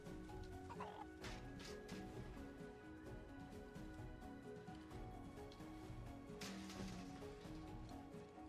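A chicken clucking in Final Fantasy 7 Rebirth: repeated short clucks and squawks over a steady background of game music and ambience, at moderate level.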